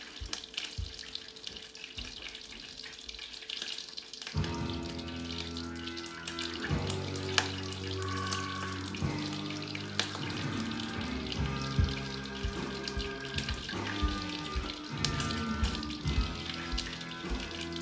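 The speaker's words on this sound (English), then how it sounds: "listen to my butter pop" Butter popping and sizzling in a hot pan while steaks and browned butter cook on the barbecue, a dense, steady crackle with sharp pops throughout, starting quieter then growing louder after a few seconds.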